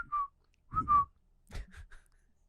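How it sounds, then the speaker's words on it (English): A person whistles several short tonal notes, with brief pauses between bursts, close and fairly quiet with no talk over it. "And I'll do a whistle."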